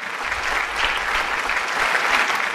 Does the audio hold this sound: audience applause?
yes